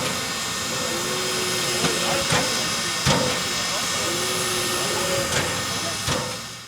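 Nickel Plate Road 765, a steam locomotive leading ten passenger cars on a scenic excursion, lets out a continuous loud hiss of steam, broken by a few sharp bursts at regular intervals.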